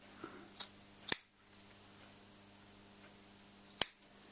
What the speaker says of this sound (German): Da muss man ordentlich zudrücken, die Schere.